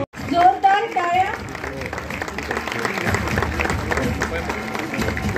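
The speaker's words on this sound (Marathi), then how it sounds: "जोरदार टाळ्या." Loud, sustained applause from a large audience fills a film festival inauguration hall, with a voice heard over the start of the clapping.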